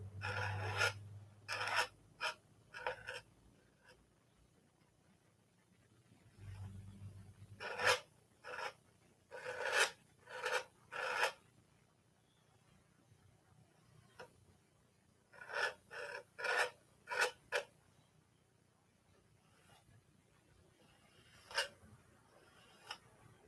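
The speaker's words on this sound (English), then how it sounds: "I'm getting a sandy texture by scraping that canvas with the paint" A palette knife drags paint across canvas to build a sandy texture for a landscape painting, making short close rasping scrapes in quick bursts separated by quiet pauses.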